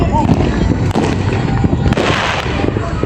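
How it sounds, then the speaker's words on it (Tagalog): Dense, continuous crackling and booming of New Year fireworks going off all around, loud and close, with a few voices faintly mixed in. "Ayun fireworks na Nak."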